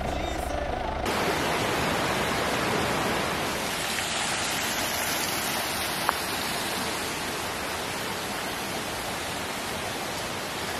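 A stream flows right beside a walking path, a loud, steady rushing wash of water filling the whole clip, close by and continuous.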